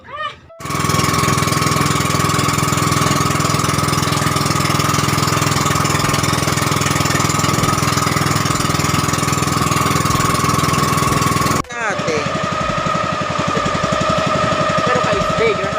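A motorcycle engine runs steadily at idle, loud and close with a mechanical clatter, cutting out abruptly near the end before a quieter engine rumble continues; a voice speaks briefly.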